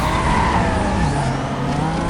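Need for Speed Most Wanted video game car braking: a loud, steady tire skid and squeal over engine roar, running unbroken for about two seconds.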